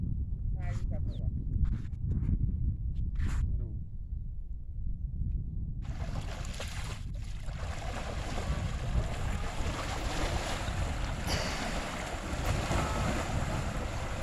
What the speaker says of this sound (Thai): น้ำเป็นคลื่นเลยพี่